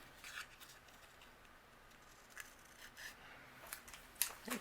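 Scissors snip faintly and close at overhanging paper on a handmade holiday card, a few quick crisp cuts in a quiet room.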